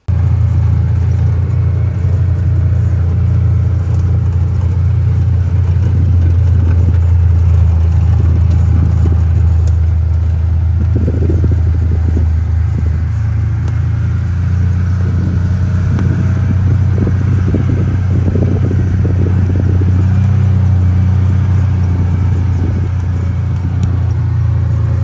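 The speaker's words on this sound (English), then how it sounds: "Today we're going on a gator ride" Steady low engine rumble of a Gator utility vehicle on a ride through a forest garden, continuous and close throughout with slight surges and faint rattles, no talking.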